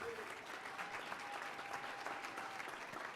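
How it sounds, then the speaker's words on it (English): Audience applause at a young men's leadership conference, steady dense clapping from a large crowd filling the hall throughout, with a faint tone running under it. "go ahead, clap for that."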